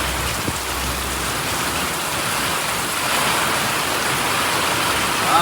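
Heavy rain pours down on a vehicle with windshield wipers in a dense, steady roar of hissing water, loud and unbroken throughout, with a brief low thump near the start.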